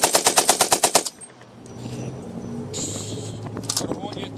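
An M60 machine gun fires a rapid burst of about nine loud shots at an outdoor test-firing event, then stops, followed by crowd murmur, outdoor background noise and a few distant voices.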